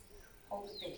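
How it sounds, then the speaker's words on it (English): Birds chirp in bright bursts, fairly close, while a person speaks a short phrase over them. "listen to the birds singing"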